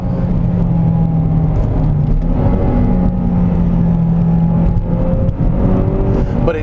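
A modified Mazdaspeed3 engine pulls steadily while driving, a loud continuous rumbling drone with a whirring tone that rises slightly in pitch, heard close from inside the car with no voices.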